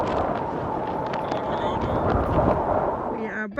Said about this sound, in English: due to the wind, you don't hear much